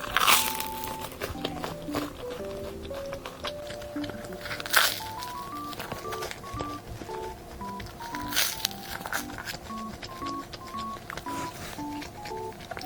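A few crisp, crackling bites into crunchy butter bread with a baguette-like crust, spaced several seconds apart and fairly close, under steady background music.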